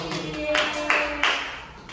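A handful of sparse, separate hand claps in an elementary school classroom, spaced unevenly and fairly soft, with no talking over them.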